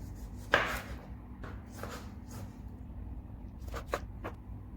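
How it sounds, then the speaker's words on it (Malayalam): A knife chops a tomato on a cutting board for shahi paneer, giving a few quiet, scattered cuts: one sharper knock early, then softer taps and a quick cluster of chops near the end. "ഇനി നമുക്ക് ടൊമാറ്റോ കട്ട് ചെയ്ത് കൊടുക്കുക"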